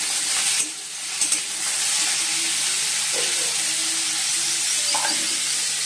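Potatoes, parboiled in salted water, fry in a pan with a steady, loud, close sizzle, broken by a few light clatters of stirring.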